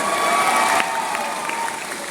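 Audience applause at a Keysoul zonal program event in Guwahati, Assam, a full, even roar of many hands clapping that holds steady for the whole stretch.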